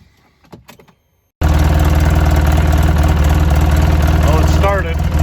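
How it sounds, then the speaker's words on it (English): A 2010 Polaris RZR 800 UTV engine catches after a quiet moment of small clicks and handling noises, then runs at a loud, close, steady idle with a rapid even pulse, and a voice speaks briefly near the end. "I will turn the key and see if it'll start"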